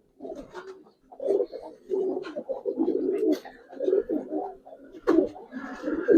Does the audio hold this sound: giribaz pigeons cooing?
yes